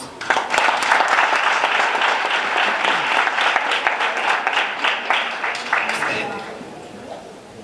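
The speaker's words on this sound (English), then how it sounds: "let's give him a round of applause" A room of attendees at a DDP youth indaba in Durban gives a speaker a warm round of applause, loud dense clapping that builds quickly, holds for several seconds, then fades out near the end.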